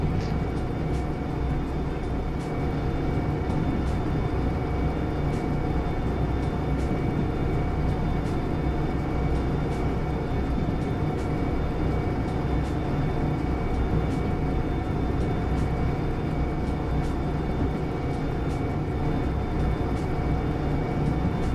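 Two DE6 diesel locomotives in the railway sim Derail Valley haul a load uphill, a steady, dense low engine drone and rumble that holds unbroken and loud throughout with no voices.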